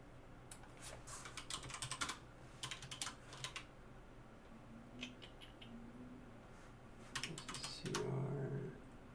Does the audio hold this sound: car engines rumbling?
no